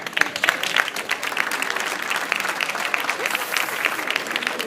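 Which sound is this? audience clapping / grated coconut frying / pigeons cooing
audience clapping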